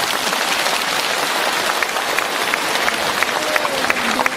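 Audience applause at a Buddhist Dharma assembly in Hong Kong, a dense, steady patter of many hands clapping at close range throughout, with faint voices mixed in.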